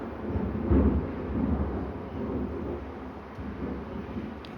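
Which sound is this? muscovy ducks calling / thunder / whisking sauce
thunder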